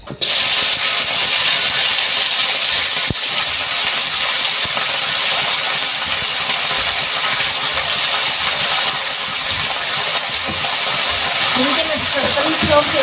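Spices and a garlic-and-chili tadka hissing in hot oil for a radish-leaf curry, a loud, continuous close-up sizzle that holds steady throughout with a faint clatter near the end.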